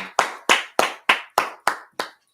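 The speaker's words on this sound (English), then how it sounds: "Let's go ahead and give a hand clap for the Lord." Seven sharp, evenly spaced hand claps, loud and close, each a crisp single clap in a steady rhythm with no talk, at a Friday night language and culture class.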